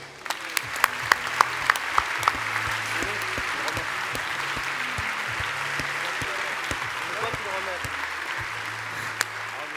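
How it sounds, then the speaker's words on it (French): An audience applauds WTCR 2021 champion Yann Ehrlacher at a stage event, sustained crowd clapping with a few sharp close claps standing out and a low murmur of voices beneath. "Merci d'applaudir Yann Erlaché."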